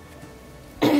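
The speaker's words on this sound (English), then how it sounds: "Sorry, I'm coughing a bit." A short burst of coughing arrives abruptly near the end of a quiet stretch, one close, loud cough or throat-clear from someone apologising mid-chat.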